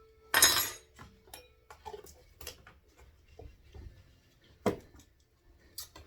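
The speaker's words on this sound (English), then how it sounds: "And you give that all a good mix." Egg salad with mayonnaise and sour cream being stirred in a bowl: scattered light clinks and taps of a utensil against the dish, with one louder scrape near the start, in an otherwise quiet room.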